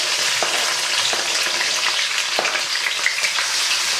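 Seasoning hits a hot pot for ackee and saltfish, giving a steady, loud frying sizzle throughout with a few brief clicks and crackles on top.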